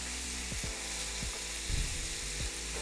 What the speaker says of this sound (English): once the pan gets hot, we're going to add the steak. I'm gonna drop in my steak